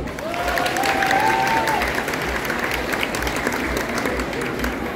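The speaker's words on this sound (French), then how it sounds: "est-ce qu'on peut applaudir s'il vous plaît les accessoiristes?" An audience at a cosplay contest during a convention claps for the prop makers, dense sustained applause throughout with scattered cheers and a brief high whistle-like tone near the start.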